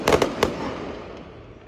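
A rapid cluster of sharp firecracker bangs at night, three quick cracks, then a fading echoing rumble.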